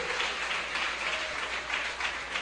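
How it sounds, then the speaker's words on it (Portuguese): A church congregation applauding, a continuous wash of many hands clapping at once, steady and fairly loud, with faint swells throughout. "Aplauda ao Senhor bem forte"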